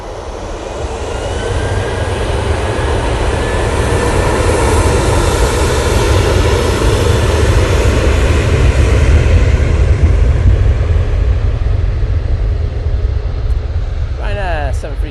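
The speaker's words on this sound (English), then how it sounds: "Ryanair 737-800 now the roll." A Ryanair Boeing 737-800 jet begins its takeoff roll, engines spooling up into a loud, building roar that peaks and then eases as it moves away, with a voice talking over it.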